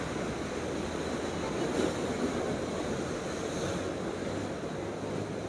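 Steady roar of high sea waves breaking along the Corniche in Alexandria, Egypt, with wind buffeting the microphone, continuous and loud, no voices.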